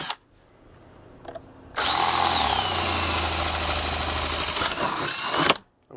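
A power drill fitted with a threaded insert tool, a loud, close whir that starts abruptly after a few quiet moments, runs steadily for several seconds and then cuts off.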